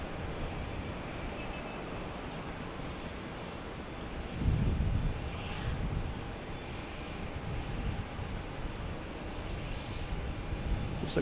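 A Delta Airbus A320neo airliner arriving at Boston Logan gives a distant, steady jet roar mixed with wind buffeting on the microphone, swelling slightly midway through.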